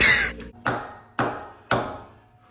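Four heavy metallic hammer strikes on engine parts during a 4.6 3V engine rebuild land in an even rhythm, each ringing briefly and decaying before the next blow, close and loud.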